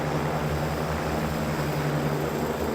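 Military helicopters flying at night in the wargame WARNO, a dense continuous rotor and engine drone. The roar stays loud and steady with low throbbing, and nothing else is heard.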